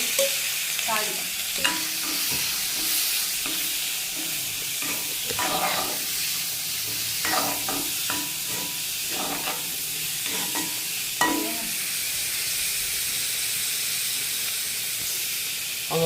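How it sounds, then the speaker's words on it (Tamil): Onions and curry leaves sizzle and hiss steadily in hot oil, with repeated scraping stirs of a spoon in the pan at close range. "எண்ணெய் ஏற்கனவே எல்லாம் கொதிச்சுட்டு அதில் வெங்காயம் கருவேப்பிலை எல்லாம் போட்டு தாளிக்கும்"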